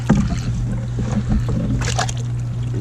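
A wooden beehive part is dipped into eco wood treatment liquid, with close, sloshing splashes and trickling drips against a steady low background hum.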